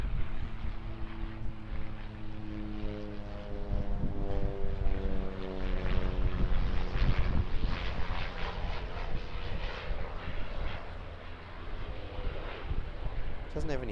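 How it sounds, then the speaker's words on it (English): A Barrier Air Cessna 208 single-engine turboprop comes in to land at Auckland, its steady droning engine tone with a rising and falling propeller whine building close by, while someone talks over it throughout. "we've got an arrival coming in. Barrier Air Cessna 208"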